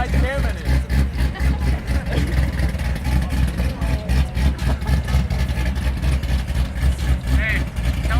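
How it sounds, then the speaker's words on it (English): A car engine with an aftermarket cam idles nearby with a lumpy, loping rhythm, its deep pulsing burble steady throughout while voices talk close by at a car meet. "Hey, Jason, my car's got a nice cam in it."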